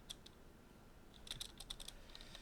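Someone types a short command on a computer keyboard in VS Code and presses Enter: a few faint isolated clicks, then a quick run of light keystrokes ending in a firmer tap, close and quiet.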